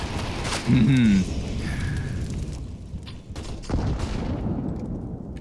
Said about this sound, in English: Ooh, that's a chunky frag.